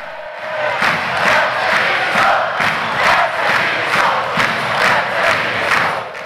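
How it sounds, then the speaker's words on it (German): Fans cheer after a Swiss wrestling final between Willisau and Freiamt, a loud crowd roar pulsing with rhythmic clapping or chanting throughout. "Fans jubeln."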